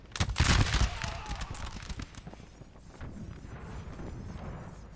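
A musket volley fired by Austrian line infantry during a Napoleon Total War multiplayer battle in a forest, a loud crackling burst at the start that rolls off into a continuing rumble of scattered distant shots.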